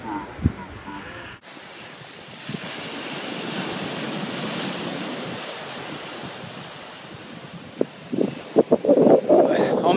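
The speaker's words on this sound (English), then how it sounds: "I am on the beach in the Bahamas, and it's an amazing afternoon" Surf washes continuously onto a beach in the Bahamas on an afternoon, with steady wind buffeting the microphone, and a few brief louder knocks and handling noises near the end.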